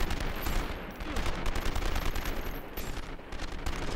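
Gunfire in a 24: The Game shootout, with rapid automatic bursts and overlapping shots that rattle loudly and continuously, close and chaotic, with no talk heard.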